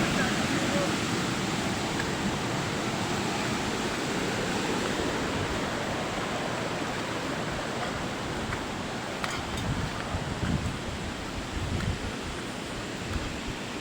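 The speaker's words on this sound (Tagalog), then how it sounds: "Ito isang bagsak ng tubig." Broad, constant roar of water pouring down at Bumbungan Twin Falls, dense and unbroken throughout, with a voice briefly audible beneath it.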